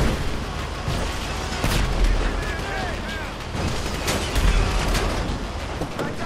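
Tank cannon fire and explosions in GTA 5 during the Paleto Score heist, heavy booms and gunfire bursts rolling over a loud battle din, with voices talking over it.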